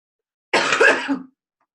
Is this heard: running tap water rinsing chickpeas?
no